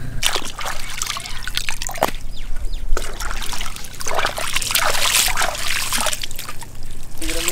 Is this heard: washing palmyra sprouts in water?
yes